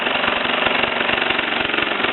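Mamod SE2 toy steam engine running slightly rough and driving a small brass workshop hammer setup, a steady rapid mechanical tapping and chuffing that stays loud and even throughout.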